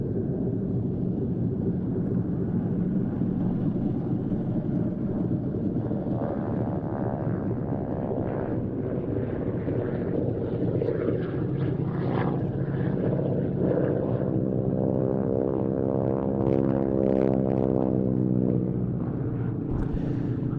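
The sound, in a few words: North American T-6 Texan (Harvard) propeller aircraft flying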